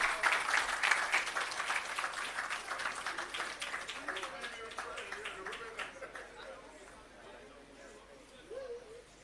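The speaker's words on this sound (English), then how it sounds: "Please give her a round of applause." An audience claps at a ceremony commissioning an irrigation system and launching an agro park. The dense applause is strongest at first, then thins and fades while a voice talks faintly underneath.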